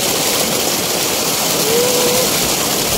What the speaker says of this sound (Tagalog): Ito na yung falls dito guys.